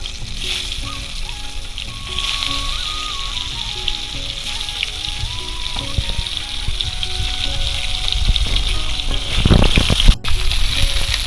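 Silver carp pieces fry in well-heated mustard oil in a wok with a loud, continuous sizzle that swells into a burst of spattering near the end.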